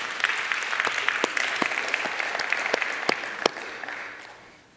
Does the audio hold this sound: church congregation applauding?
yes